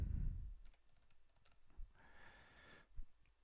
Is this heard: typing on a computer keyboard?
yes